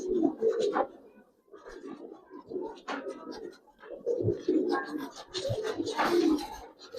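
Racer pigeons, silver-coloured Giribaz birds, coo in soft repeated throaty bursts close by, with someone talking quietly over the calls.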